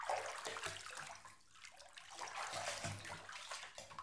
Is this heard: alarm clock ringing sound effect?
no